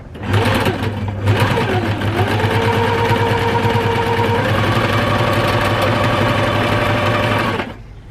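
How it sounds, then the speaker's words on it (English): A sewing machine stitches a quarter-inch seam on a sawtooth star quilt block, running steadily at a fast, even hum with a rapid needle rhythm for about seven seconds, close and loud, then stopping. "you just sew on both sides as you would normally"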